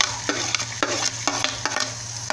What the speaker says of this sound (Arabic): خرطنا البصله زي ما احنا شايفين وهنحطها في السمنه